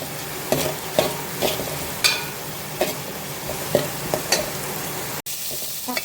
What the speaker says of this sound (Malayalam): കുറച്ച് ഉപ്പും കൂടെ ചേർത്തിട്ട് നമുക്കിത് നല്ലോണം ഒന്ന് ഫ്രൈ ചെയ്തെടുക്കാം